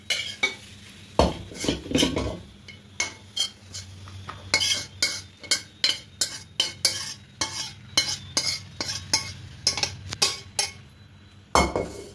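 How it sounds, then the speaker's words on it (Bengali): Maggi noodles tipped and scraped out of a pan into another pot, a quick run of regular metal-on-metal scrapes and clinks from a utensil, close and crisp, with no talking. "এবার গ্যাসটা অফ করে অন্য একটা পাত্রের মধ্যে ঢেলে নেব"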